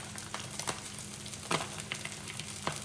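A seabass fillet fries skin-side down in a pan, giving a quiet, steady sizzle with a few soft spits and crackles popping up at intervals, close but low in level.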